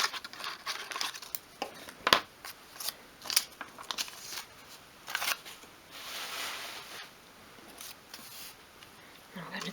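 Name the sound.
scissors cutting out a printed paper label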